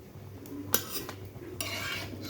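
Fried paratha is lifted from an oiled pan, with sharp metallic clinks and scrapes of the utensil against the pan over a faint background sizzle.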